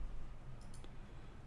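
A few quick mouse clicks land close together partway through, crisp and near against a low steady hum, with no talking.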